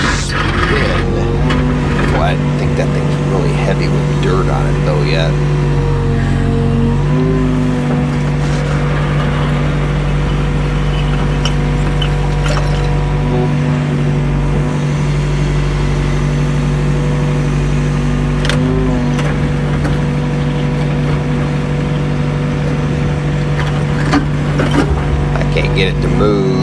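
A mini excavator's mid-pitched diesel engine runs steadily while an old foundation is being removed, holding a constant drone with small load changes throughout, close and loud, and people talk over it.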